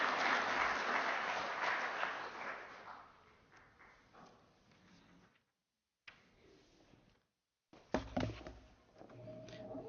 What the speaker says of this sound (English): Please again join me in another round of applause for these candidates.